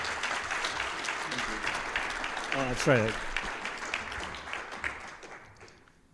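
A conference audience applauds, a dense patter of clapping that gradually fades out, with a brief spoken remark in the middle.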